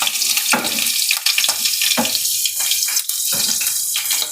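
Garlic sizzling in hot oil in a pan, a steady loud hiss and crackle running throughout, with sharp pops of spatter breaking through at intervals.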